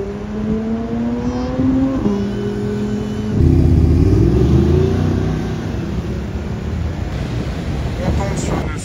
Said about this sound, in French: Encore une Touring, cette fois-ci en génération 992. Oh là là, le flat 6.